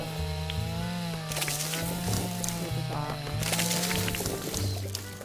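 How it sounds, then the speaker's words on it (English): A chainsaw cutting in the video game Dinkum, a steady buzzing drone with rising and falling engine pitch, running throughout under a brief spoken word. "Get the chainsaw out."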